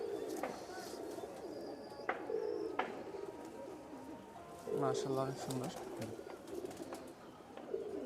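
Rajshahi Giribaz pigeons coo in low, rolling phrases close by, with a clear burst midway, while people talk quietly nearby.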